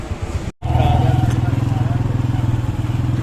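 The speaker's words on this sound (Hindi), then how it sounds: "मैंने बाइक निकाल ली है" A motorcycle idles close by at a bazaar in Faisalabad near the Clock Tower, its engine thumping in a fast, even pulse after a brief cut, with a voice speaking over it.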